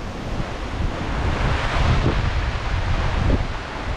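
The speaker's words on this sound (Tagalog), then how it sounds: "may low pressure po dito sa amin kaya ganito ang hangin ho" Strong gusting wind from a low pressure system blowing across open farm fields, a loud, continuous broadband rush that swells and eases, buffeting the microphone.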